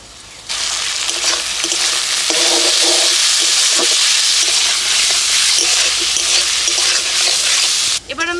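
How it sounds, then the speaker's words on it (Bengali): Shrimp sizzling loudly in a pan of frying onion, garlic and green chili, with steady hissing and a few stirring scrapes, after a brief quiet start. "পেঁয়াজ রসুন কাঁচা লঙ্কা একটু ভেজে নিলাম। এবার আমি এর মধ্যে দিয়ে দিচ্ছি ধুয়ে রাখা চিংড়ি মাছ।"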